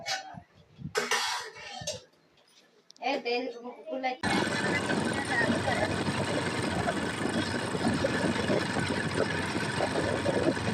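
A motorcycle on a road ride gives a steady, loud engine drone with wind rush that fills the second half, after people talk briefly at the start.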